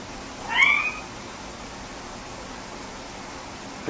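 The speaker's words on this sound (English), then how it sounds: "The cat just meow." A cat gives one short, fairly clear meow near the start, then only quiet steady background hiss remains.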